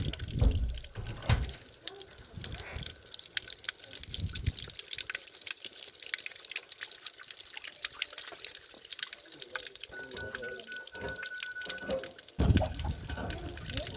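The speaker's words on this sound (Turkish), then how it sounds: "Güneş paneli ile çalışan su motoru. Bu şekilde su deposuna su gitmektedir." Water from a solar-powered pump runs into a 2500-litre storage tank, a continuous trickling and splashing flow with scattered drips and clicks, close and moderately loud throughout.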